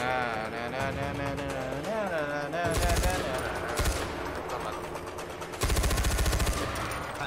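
Machine gun fire in the open-world shooter Far Cry 4, loud rapid bursts of automatic shots in several stretches, following and partly under a voice talking.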